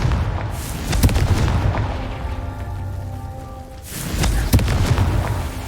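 Blasting-spell explosions in the Hogwarts Legacy video game: deep booming impacts at the start and again near the end, with a sustained tonal hum and game ambience between them.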